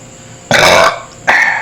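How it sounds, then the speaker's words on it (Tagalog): Two loud, close burps from a person eating balut, a longer one followed after a short pause by a second, shorter one, against a quiet background. "Yan po ang dighay."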